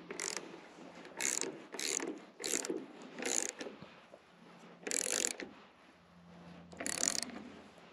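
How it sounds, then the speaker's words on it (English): Ratchet wrench clicking in repeated short bursts while tightening bolts on post-frame building trusses, a series of close, rapid ratcheting strokes separated by brief pauses, with no talking. "the only ratchet I have is really shallow, so I have to put it on this end"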